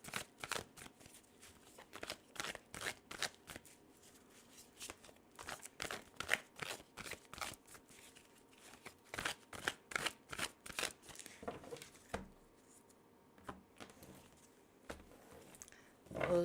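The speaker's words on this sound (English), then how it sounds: "let's take some cards" Tarot cards are handled and shuffled close by, with a dense run of quick riffles and flicks. Soft crinkly handling noises fill the gaps between the shuffles.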